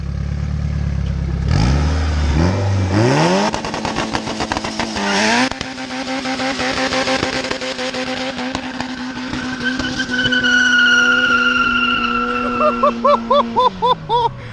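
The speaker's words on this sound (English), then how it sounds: "Do a burnout!" A built single-cam car does a burnout on the street at night. The engine revs hard and the tires squeal and skid in a long, loud sustained howl, then it lets off into choppy idle pulses.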